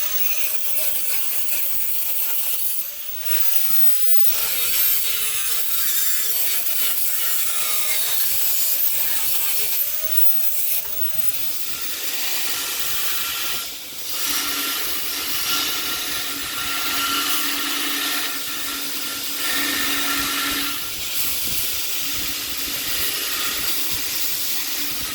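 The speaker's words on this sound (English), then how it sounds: "All this means is I got some more grinding to do on this side." A grinder works a ball bearing and washer canister Damascus steel knife blade with a steady abrasive rasp, close and continuous, its pitch shifting briefly early on before it settles into an even grinding hiss.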